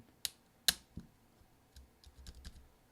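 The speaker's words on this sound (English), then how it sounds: "You're going to press down until you hear several clicks" A replacement 9 key on an early-2011 13-inch MacBook Pro, 2.3 GHz Core i5, is pressed down until it snaps in, giving two sharp, close plastic clicks, then a softer click and a cluster of faint taps.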